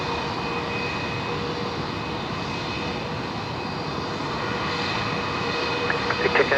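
A fixed-wing aircraft landing at Brisbane Airport at twilight, its engines a steady, broad roar that holds throughout and swells slightly near the end.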